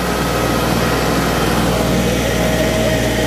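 A New Holland 3630 tractor, tuned for more horsepower, runs steadily nearby with a loud, constant engine drone and no pauses.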